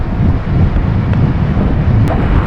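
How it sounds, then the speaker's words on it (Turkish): Steady, loud wind buffeting the microphone while cycling, a dense low rumble filling the whole clip with no voices. "o ne rüzgar esiyor ya"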